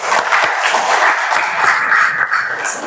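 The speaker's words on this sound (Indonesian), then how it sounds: "Tepuk tangan dulu untuk kita semua." Short burst of classroom applause among teachers at an Indonesian teaching practicum, a small group clapping fairly close and loud.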